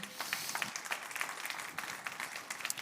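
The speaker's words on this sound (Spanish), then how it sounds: "déle ese fuerte aplauso al Señor" A church congregation at a Sunday service claps in scattered, fairly faint applause, many hands patting unevenly at a distance.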